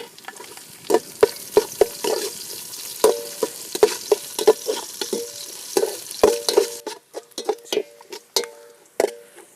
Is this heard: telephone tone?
no